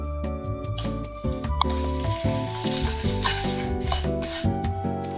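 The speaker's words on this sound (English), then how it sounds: "Mix lightly, then add 150 grams of melted butter" A spoon stirs and squishes a thick no-bake cake mixture with cocoa and melted butter, giving a steady wet mixing sound, close and continuous, with soft music underneath.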